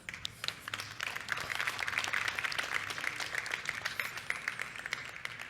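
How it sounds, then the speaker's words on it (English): Applause from an event audience at a startup conference's opening remarks, honouring the sponsors, a steady wash of many hands clapping that holds at an even level for several seconds with no speech over it. "I'd like to give a big round of applause."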